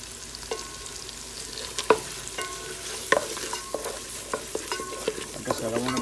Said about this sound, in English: I'm going to melt the butter in there.